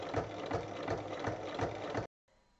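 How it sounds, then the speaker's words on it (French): A sewing machine topstitching 1 mm from the edge of fabric runs in a steady, rapid mechanical whir with a rhythmic stitching pulse for about two seconds, then stops abruptly, leaving a faint quiet tail. "on fait une surpiqûre à 1 mm de chaque côté."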